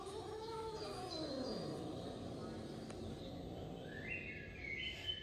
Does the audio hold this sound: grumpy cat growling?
yes